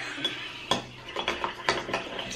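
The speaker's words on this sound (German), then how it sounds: "Ich will rühren, du darfst nicht alleine rühren." A spoon stirring a baby food smoothie in a container makes a few close clinks and soft scrapes in an uneven rhythm, with no talking.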